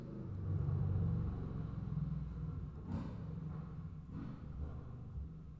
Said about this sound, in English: they come by and they make noise with their unnecessary cars and trucks and motorcycles